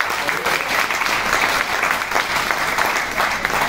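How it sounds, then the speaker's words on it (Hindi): Steady, dense applause from an audience at a business plan presentation on stage, loud and sustained throughout with no talking over it. "ताली।"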